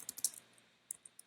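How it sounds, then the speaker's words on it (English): Fingers tap on a computer keyboard in a few quick, light clusters of clicks, close and quiet, with brief gaps between bursts and no speech. "So let's just start typing and let's start getting everybody going."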